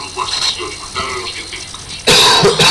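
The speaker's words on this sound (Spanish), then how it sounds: "Disculpen por la tos." A person with a cold gives one harsh, loud cough close to the microphone, bursting in at the end after stretches of spoken commentary over Call of Duty Black Ops campaign game sounds.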